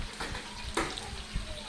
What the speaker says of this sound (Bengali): এখন ঝোলের জন্য পরিমাণ মতো পানি দিয়ে দিব।